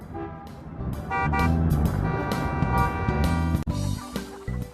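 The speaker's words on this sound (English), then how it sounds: "In the city, we hear car horns honking." City traffic with car horns honking in repeated short and sustained blasts, loud and close, over a constant rumble of engines.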